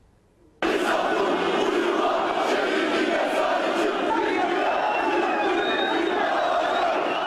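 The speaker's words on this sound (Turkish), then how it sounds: "Aynı anda binlerce kişinin ağzından aynı ses yükseldi" A large crowd at a protest march roars in unison after a brief quiet moment, a dense, sustained wall of thousands of voices shouting together, with a few whistles above.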